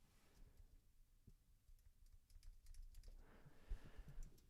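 Typing on a computer keyboard while coding an app, soft close keystrokes in uneven runs over a faint room hum, with no voice.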